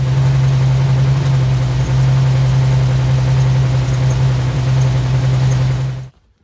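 An LS-swapped Chevrolet C10 truck engine idles with a steady, loud, even drone for about six seconds before cutting off abruptly.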